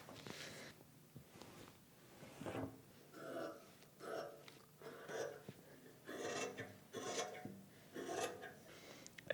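A pencil draws lines on pattern paper while a shirt pattern is drafted. Soft, scratchy strokes come up close in short repeated bursts with brief pauses between them.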